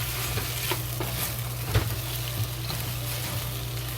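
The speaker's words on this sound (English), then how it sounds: "we added the rest some cilantro to decorate and fry and stir it" Sweet and sour pork with cilantro sizzling in a wok, a dense continuous fry under a low hum, with a few soft spatula knocks as it is stirred.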